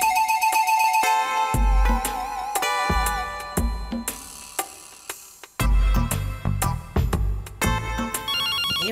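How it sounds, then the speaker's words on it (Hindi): A phone ringtone plays a repeating electronic melody at a steady volume through the whole stretch, with short pauses between the phrases and no voices. "ये भगवान, एक तो ये मरा फोन बजता ही रहता है।"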